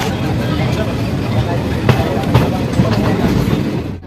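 The Delhi Haridwar Express pulls out of Khatauli railway station with a steady rumble and rhythmic wheel clatter, heard from on board. Voices talk over the noise.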